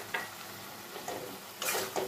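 Fried peanuts and coconut get stirred into a cooking pan, giving a soft frying hiss with three or four brushing scrape bursts from the spatula, quiet and close, with no voices.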